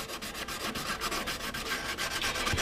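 Sandpaper rubbed by hand over a radius edge of a Bimota motorcycle fairing, giving close, steady back-and-forth scratchy strokes in an even rhythm with no talking.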